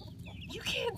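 Polish chickens clucking close by, a run of soft, rising clucks and chirps that grows a little louder toward the end, with no talk over it.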